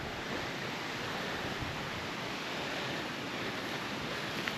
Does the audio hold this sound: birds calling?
no